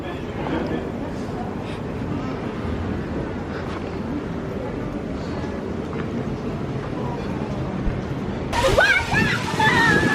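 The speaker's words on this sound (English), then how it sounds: "kids at the water park." Children play in the water at a water park, with continuous sloshing and splashing and voices mixed in, the sound growing louder and busier toward the end.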